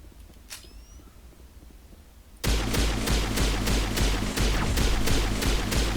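Pistol fire in Mass Effect: after a quiet lull, a rapid string of about a dozen loud, evenly spaced shots rings out close up and continues without pause.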